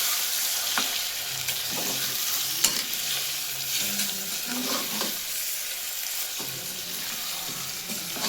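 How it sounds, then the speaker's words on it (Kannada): Chicken frying in oil in a pan for chicken sambar gives a continuous close sizzle, with stirring scrapes and light clinks scattered through it. "ಎಣ್ಣೆ ಒಳಗೆ ಒಂದು ಸ್ವಲ್ಪ ಫ್ರೈ ಮಾಡ್ಕೊಳ್ಳೋದು ಮತ್ತೆ"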